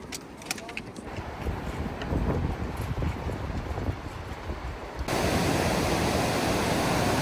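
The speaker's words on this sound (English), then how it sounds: "This is Dingboche river." The Dingboche river in the Everest region rushes loudly and steadily, a constant broadband roar that swells even louder toward the end, with a voice partly buried beneath it.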